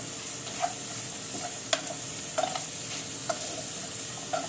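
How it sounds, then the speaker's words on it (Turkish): Flour dry-roasting in a pan for a homemade mushroom soup, with soft, steady scraping under a faint sizzle and a few sharper clicks and taps of the spoon against the pan, close and alone. "Kokusu çıkıncaya kadar unumuzu elimizden geldiğince güzelce kavuralım."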